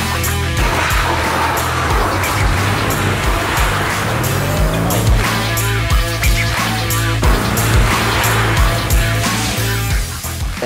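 Mercedes-AMG car sliding around a skid pan, engine roaring loudly with rising and falling revs while tires squeal in repeated bursts, all close and continuous.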